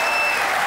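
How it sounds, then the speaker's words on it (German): A TV studio audience at a German talk show applauds in a dense, steady wash of clapping, loud and close, with no break. "Sie können das Publikum ja richtig anfeuern"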